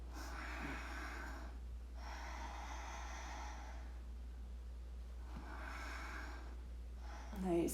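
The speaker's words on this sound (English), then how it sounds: "Nice, deep, powerful breaths to help engage the motion." Deep, forceful breaths during a leg-lift exercise: three long, steady breathy swells with short pauses between, close and moderately loud, ending with a sharper exhale.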